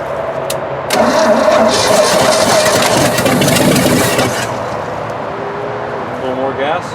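A small engine in a shop cranks and catches after gas is squirted into it, running roughly for a few seconds, then fading to a lower idle-like drone while people talk nearby.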